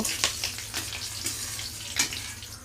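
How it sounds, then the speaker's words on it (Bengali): Green chillies frying in a pan for a potato paneer dish, giving a soft, steady hiss with light crackles and a few sharper pops throughout, no talking. "লঙ্কাটাকে একটু ভেজে নেব"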